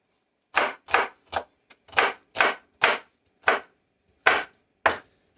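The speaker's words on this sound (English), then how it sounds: "you don't have to chop it like I do. Just can be kind of a rough cut." A knife chopping vegetables on a cutting board for chicken soup, about ten crisp separate chops at an uneven but steady pace, close and clear, with no talking.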